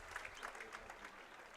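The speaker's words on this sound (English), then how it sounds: "As the Central Mountain faithful applaud" Football fans applaud at a high school stadium, a steady wash of clapping from a crowd with faint voices mixed in, held at an even level throughout.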